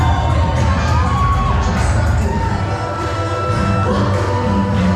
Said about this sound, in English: drawing more applause and laughter from the crowd